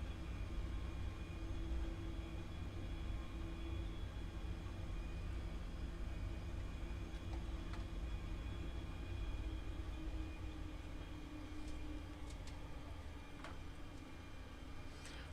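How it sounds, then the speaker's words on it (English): A Boeing 737 taxiing quickly in a flight simulator game at Tenerife South, a steady low engine drone with a faint whine held throughout, even and moderately loud, with no voices. "Taxiing quite quickly here, but there's no real need for us to stick to any speed limits"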